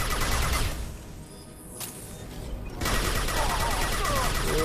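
Bursts of gunfire from a Mass Effect Legendary Edition firefight, dense and loud at the start, dropping to a quieter lull, then returning as steady rapid shots through the final seconds.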